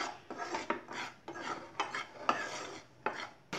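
Wheat flour being dry-roasted and stirred in a pan for idiyappam: repeated rasping scrapes in an uneven rhythm, close and fairly quiet, with brief pauses between strokes.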